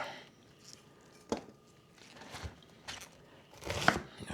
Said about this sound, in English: Well, it don't take long to chop this thing up.